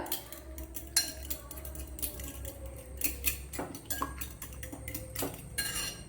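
Eggs with salt being beaten in a bowl, a spoon or fork clinking and scraping in quick irregular taps, close and fairly quiet, with no talk.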